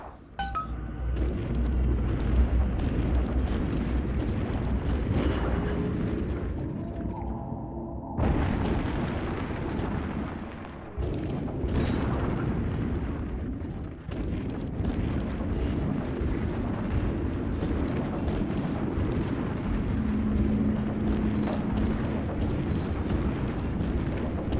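Bombs explode in BioShock 2, heavy rumbling blasts and crashing debris with clinking metal, roaring continuously with sudden bursts and dropouts as the structure gives way.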